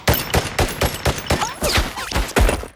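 Rapid bursts of automatic gunfire from an action film crack out in a dense irregular string of sharp loud shots, some overlapping, with no talk.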